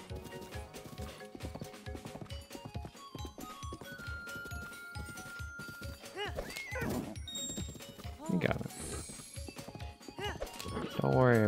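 Horse hooves clip-clopping in a steady rhythm with neighs and whinnies in Breath of the Wild, under ongoing game music and someone talking, with a louder whinny near the end.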